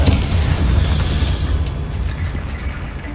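A Bombarda spell explosion in Hogwarts Legacy, a loud, deep boom that rumbles and slowly fades over a few seconds, with no talk over it.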